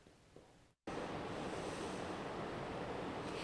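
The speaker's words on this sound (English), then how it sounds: "we got some massive water rushing through here, carving out this canyon" River water rushing through Oak Creek Canyon, swollen by high-country snowmelt: a loud, dense, continuous roar close to the microphone, after a brief quieter moment and a short dropout.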